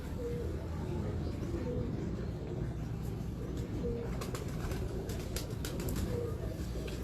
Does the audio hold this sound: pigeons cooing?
yes